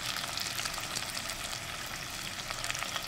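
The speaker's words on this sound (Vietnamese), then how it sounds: "Tiếp theo mình cho cá vào chiên sơ nè." Pieces of fish lightly pan-frying for caramelized braised fish, a steady, soft, close hiss of oil sizzling continuously with faint crackles throughout.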